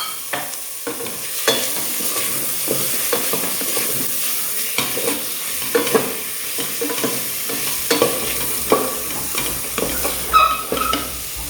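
Minced mutton frying in a pan for mutton nombu kanji, a steady sizzle with repeated scraping and clinking stir strokes from a utensil against the pan, close and without speech.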